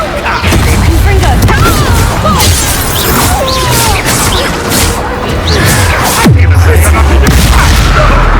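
Loud blasting-spell explosions from the game Hogwarts Legacy, with impacts, crashes and whooshes over a dense battle soundscape and a deep boom near the end; voices talk during the combat.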